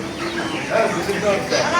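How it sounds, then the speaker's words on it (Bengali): Chickens cluck at a poultry market, their calls mixed with background chatter in a busy, noisy setting. "দেখেন একটা নতুন জাতের মুরগি"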